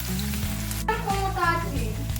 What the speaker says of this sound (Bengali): এবার আদা রসুন বাটা দিয়ে দিলাম। এবার ভালোভাবে আদা রসুনটা ভেজে নেব।